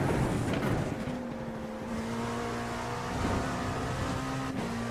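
A racing car engine in a sim racing game holds a steady whining drone with gear-like pitch steps, moderately loud and continuous with no talk.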